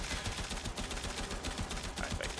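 Gunfire in the video game Warframe fills the moment with rapid, dense repeated shots, loud and continuous throughout.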